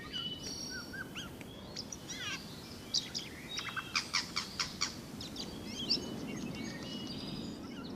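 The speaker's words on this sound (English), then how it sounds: "Their singing is similar to a parrot's tweet, although the surrounding world doesn't remind us of the tropics." Small birds sing and chirp near a house in Siberia, with a run of rapid repeated notes among scattered tweets, heard at moderate distance over a steady low rumble of background noise.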